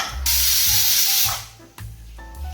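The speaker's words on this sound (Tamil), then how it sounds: "3 விசில் வந்துருச்சுங்க. அடுப்பு ஆஃப் பண்ணிடலாம்." A pressure cooker cooking vegetable biryani lets off steam in a loud, sustained hiss, then a second burst of hissing after a short dip, close and alone.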